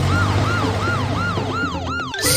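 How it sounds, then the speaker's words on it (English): A police car siren wails close and loud in a repeating rising-and-falling cycle, about six sweeps in quick succession, with no talking over it. "Police car, go!"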